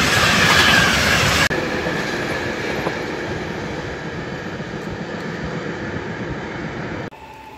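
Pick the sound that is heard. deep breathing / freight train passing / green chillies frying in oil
freight train passing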